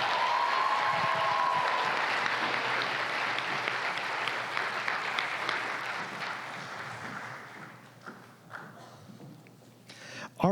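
An audience at an evening university event applauds with sustained, loud clapping that gradually thins out and fades, with a few scattered claps and murmurs near the end.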